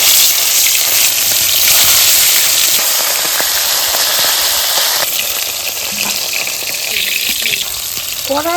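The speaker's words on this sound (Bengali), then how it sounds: "পরিমাণ মতো তেল দিয়ে দিচ্ছি, মাছগুলো ভেজে নেব।" Pomfret fish fry in hot oil seasoned with black cumin in a wok, giving a loud, continuous hissing sizzle that eases slightly midway, with faint clinks and a brief higher tone near the end.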